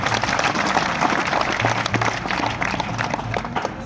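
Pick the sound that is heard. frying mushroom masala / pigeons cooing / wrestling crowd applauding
wrestling crowd applauding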